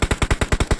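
Rapid automatic gunfire in the mobile battle-royale game PUBG Mobile, a steady burst of about seven evenly spaced, punchy shots, loud and close with no talk over it.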